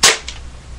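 A single sharp airsoft gun shot at a practice target, a loud crack at the start followed by a faint second tick and a fading tail.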